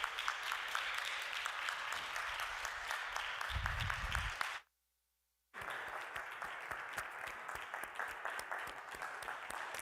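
Church congregation applause during a Sunday service, steady clapping that cuts out abruptly for about a second and then resumes just as strongly, fairly quiet overall.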